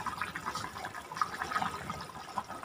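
A pot of katla fish curry comes to a rolling boil over a strong gas flame, giving a steady, close bubbling and simmering wash that carries on evenly throughout with no voices.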